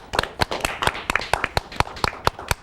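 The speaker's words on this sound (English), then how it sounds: "Let's give that kid a cute round of applause." A few people clap in quick, uneven rhythm close by, a short sparse round of applause with no voices.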